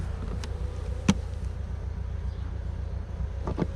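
Honeybees drone steadily at the open hive frames while the queens are checked, a close, continuous buzz with a few louder individual bees passing near, and no talking.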